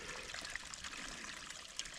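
Water trickles and splashes steadily at a small local waterfall, a thin continuous gurgle with bright droplet sounds, close and fairly quiet.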